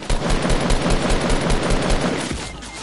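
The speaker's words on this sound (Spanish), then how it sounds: "¡Me disparan, güey, acá arriba!" Automatic gunfire in the Fortnite video game rattles in rapid, evenly spaced bursts, loud and close, continuing for a few seconds with no voices over it.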